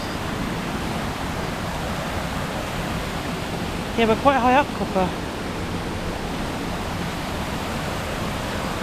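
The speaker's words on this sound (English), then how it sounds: "Maybe we can show you the big waterfall without slipping off." A big waterfall at Campsie Glen in icy winter conditions gives a steady, full broadband roar from start to end, while a voice speaks briefly partway through.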